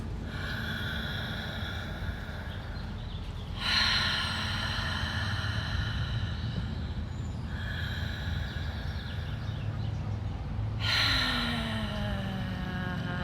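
Slow, gentle connected mouth breathing during a yin breathwork session, long airy inhales and exhales flowing with no pause between them, close and steady with a few louder breaths, no talking.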